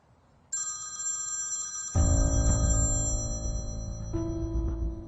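A mobile phone ringtone starts with a bright high chime, then swells into a louder melodic tune with layered tones that keeps ringing steadily without anyone speaking.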